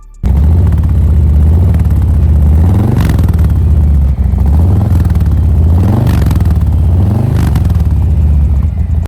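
A 2022 Harley-Davidson Fat Boy 114 fitted with a Vance & Hines exhaust idles loud and close, with a deep throbbing V-twin rumble broken by several sharp throttle blips that rise and fall.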